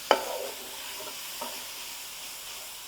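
Sausage fries in a pan with a touch of water, a soft continuous sizzle broken by a sharp scrape of a utensil at the start and another faint stir a moment later.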